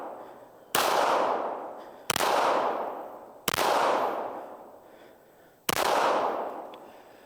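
Four loud pistol shots from a Tisas 2011 Nightstalker fire at uneven intervals. Each sharp crack is followed by a long, decaying outdoor echo, and no voices are heard.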